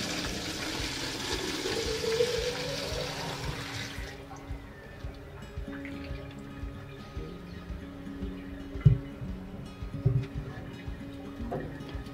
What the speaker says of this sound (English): So I'm going to fill this bottle with water.